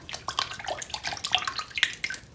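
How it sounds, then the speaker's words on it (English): Tap water runs and splashes into a sink for washing an enhydro crystal, giving irregular close splattering and dripping bursts over a short stretch with no talking. "Get some water going and soap."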